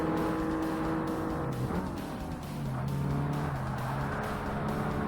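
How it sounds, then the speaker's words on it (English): A Saab race car engine drones steadily in Forza Motorsport on Xbox, loud and sustained, its pitch sliding and shifting as the car works through gears mid-race, with faint tire noise underneath. "let's get this final race with the Saab done"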